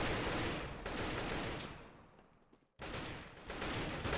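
Gunfire crackles in a Counter-Strike match, dense bursts of close rapid shots that drop out briefly before another loud burst resumes.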